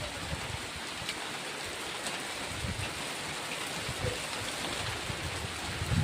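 Steady rain pouring down on a hot day in rural Sambalpur, a dense unbroken hiss of drops close by with no voices.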